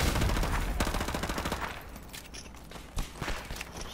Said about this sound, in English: Ooh, mini Uzi.